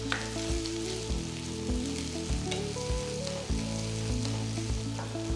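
Finely chopped ginger, garlic and a large green chili sautéing in a pan for rava upma, giving a steady close sizzle of frying with occasional stirring scrapes and no talk.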